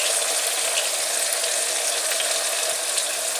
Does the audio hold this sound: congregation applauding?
no